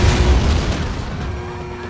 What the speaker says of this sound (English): suddenly there's this huge explosion